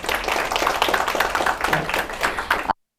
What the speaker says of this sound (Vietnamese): xin các anh chị một tràng pháo tay